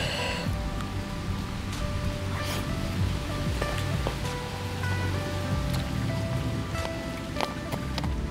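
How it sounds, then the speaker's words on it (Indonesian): Rain patters steadily on outdoor surfaces and leaves in a rural garden, a soft, even hiss of drops with scattered louder taps and no talk. "Aduh, mau hujan guys."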